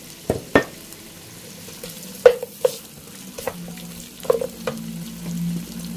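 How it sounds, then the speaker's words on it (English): Potatoes stir-fried in hot oil in a skillet, with irregular scraping and clattering stirs over a low, steady sizzle. "Once it's hot, I'm going to add in the potatoes and stir fry."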